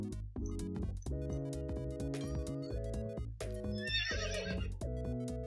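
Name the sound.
horse neighing in the video game Star Stable Online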